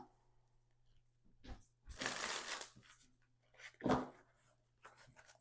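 Quiet, close shuffling of cards in a couple of short riffling bursts separated by near silence.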